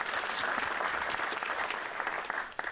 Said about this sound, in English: can we give them applause anyway?